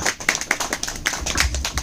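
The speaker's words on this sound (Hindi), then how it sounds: "बस इतनी तालियां।" An audience at an Ahmedabad product event claps for a short burst, with fairly close, uneven hand claps repeating quickly.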